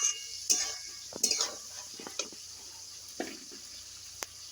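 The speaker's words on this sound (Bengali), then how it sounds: "এবার এই ভেজে রাখা আলু আর কাঁচকলা দিয়ে 1 মিনিট একটু নাড়াচাড়া করে নেব।" Fried potato and raw banana pieces are tossed in a pan, a series of sharp metal spatula clinks and scrapes over a faint sizzle, quiet and close, no talking.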